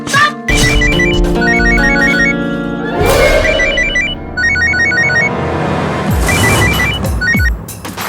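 A telephone rings in repeated electronic trilling bursts, loud and close, over a dramatic TV courtroom-drama music score with sharp stings and swells.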